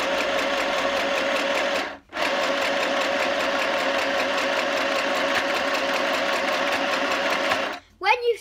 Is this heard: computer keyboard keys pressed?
no